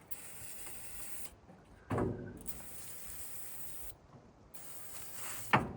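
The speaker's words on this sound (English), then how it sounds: "I got a little bit of brake clean left. I'm gonna spray it" Brake cleaner hisses from an aerosol can onto an old AMC Rambler engine left abandoned since 1983, coming in two or three close spray bursts separated by short pauses.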